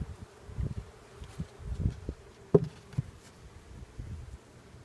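Low, faint buzzing of honey bees at a hive during a January inspection, with soft rustling and a few small knocks, quiet and steady throughout.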